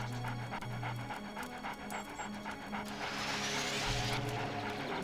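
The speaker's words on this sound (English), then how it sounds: "And the whole time we have to hear the dog panting." Dog panting in Jet Force Gemini, a rapid rhythmic breathy pant repeating steadily and fairly loud over game ambience with a rising whoosh near the end.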